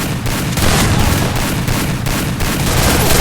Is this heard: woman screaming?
no